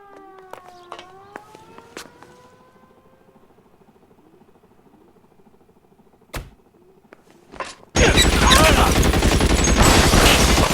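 Gunfire in the L.A. Noire video game shootout: a sudden dense burst of shots erupts near the end and continues loud and sustained, after quieter siren-like tones and a couple of isolated sharp cracks.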